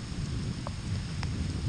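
Steady heavy rain from a Michigan thunderstorm with hail roars continuously, a dense wash of downpour with a low rumble underneath.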